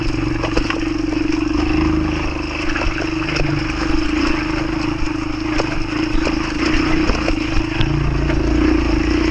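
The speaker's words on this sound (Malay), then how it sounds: "Naik motor macam ni, jalan berbatu-batu macam ni" A motorcycle engine drones steadily, with scattered rattles and clatter as it rides over a rocky forest road; no one speaks.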